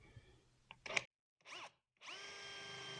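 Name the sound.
power drill drilling pilot holes in wood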